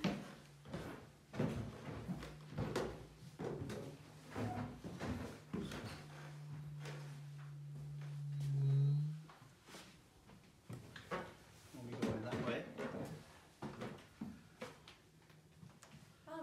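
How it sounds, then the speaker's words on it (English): A big, heavy wooden door swings shut in a historic house museum. A low creaking groan is followed by a solid close, with scattered knocks and footsteps in a quiet room. "Big heavy door."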